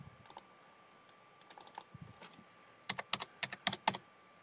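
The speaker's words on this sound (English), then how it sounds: "So let's type this over here" Numbers typed on a computer keyboard during AutoCAD work: short bursts of crisp, close key clicks, a few keystrokes at first, then a quicker run of taps, with no one speaking.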